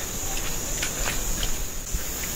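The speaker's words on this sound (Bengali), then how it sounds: "আর এই গাছটার কাছে আসতে না ঝিঝি পোকার যে সাউন্ড বা ইনসেক্টসের যে সাউন্ড সেটা যেন আরও জোরালো লাগছে" Crickets and other insects chirp loudly among hillside trees, a sustained high-pitched shrill drone with scattered louder pulses, alone without talk.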